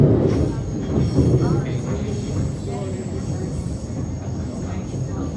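A Melbourne suburban train running on the Belgrave line, a continuous close rumble of wheels and carriage noise with steady rolling texture and faint clatter throughout.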